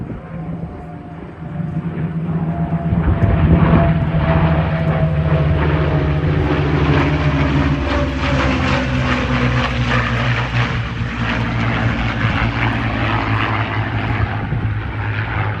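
Spitfire fighter roaring past at high speed at an airshow, a loud propeller engine drone that swells and shifts pitch as it passes close, holding strong throughout.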